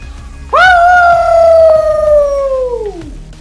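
A dog lets out a single loud, sustained howl that starts abruptly, holds steady for a few seconds and then trails off, close and clear over a faint background.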